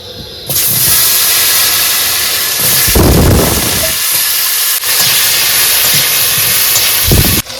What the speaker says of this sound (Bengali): এবার ভেজে নেবো আলু